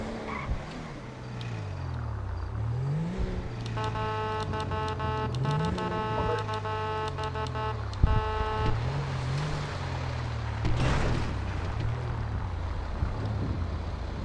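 A car is driven in a video game roleplay, its engine note rising and falling through gear changes with a steady hum, a long horn-like tone partway through, and sustained close driving noise with no talk.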